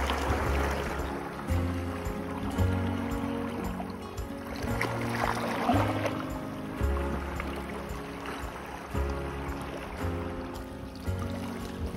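Steady rushing water with a low churning rumble underneath, continuous and fairly close, no voices, at a coastal squid-fishing spot in Japan.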